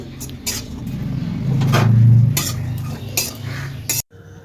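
Nolen gur payesh cooks in a pot at home, with metal clinks and scraping from stirring and pan handling over a low steady kitchen background, ending in a brief near-silence.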